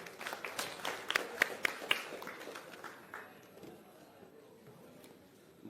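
An audience at a political event claps as a speaker is welcomed onstage, a short burst of sharp claps that fades into a quieter murmuring room.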